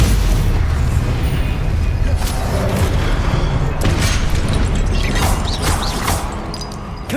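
Confringo spell explosions in the game Hogwarts Legacy, a loud continuous barrage of booms and crashing blasts layered with combat effects, heavy and close throughout.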